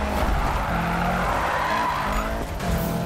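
A Corvette in the Need for Speed racing game skids hard, with a sustained tire squeal over a steady engine drone, loud and close, running continuously for a few seconds with no talk.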